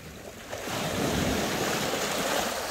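Sea waves wash in at a shore fishing spot, a broad rushing surge that swells after a quieter start and holds steady, close and loud with wind noise and no talking.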